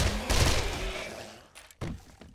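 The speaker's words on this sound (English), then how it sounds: "Shotgun." Shotgun blasts in 7 Days To Die, a loud booming shot followed by a second sharp report about a second and a half later.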